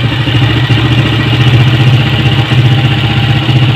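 Honda CG 125 motorcycle engine idling after a carburettor adjustment, a steady close mechanical putter with a low throbbing rhythm and slight clatter, running alone without talk.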